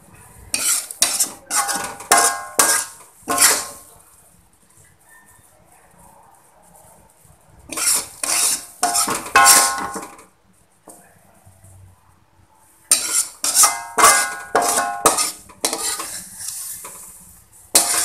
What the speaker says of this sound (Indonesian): Saya akan taruh di piring parenya.